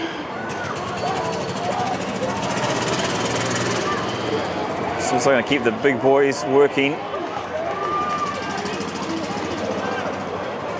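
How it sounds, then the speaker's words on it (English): A loud motor, like an old lawnmower, runs beside a rugby pitch during a West Asia Rugby Premiership match between Exiles and Hurricanes. A steady mechanical drone swells with rough bursts mid-clip, beneath continuous commentary. "Sounds like the old lawnmower going past."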